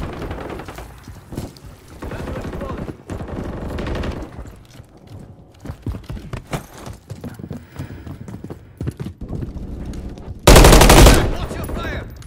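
Automatic rifle and machine gun fire rattle in rapid bursts during a Modern Warfare 3 video game match, with a loud sustained blast near the end and game voices calling out over the shooting.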